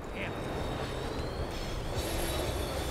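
A tram slowing down in the video game Max Payne 3, a steady rumbling rail roll with a thin high wheel squeal running across it, continuous and close.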